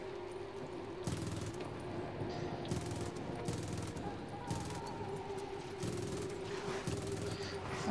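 Light machine gun fire in Far Cry 5, heard as repeated bursts of rapid shots over dense, continuous combat noise with a steady background hum.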